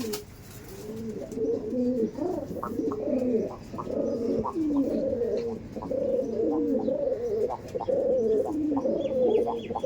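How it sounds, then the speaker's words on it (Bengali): Several tournament-quality pigeons, males and females together in a loft, coo continuously in overlapping, throaty rolling calls, close by and steady throughout, with faint chirps and rustles in the background. "আর এটা আছে মাদি পায়রা, দেখুন।"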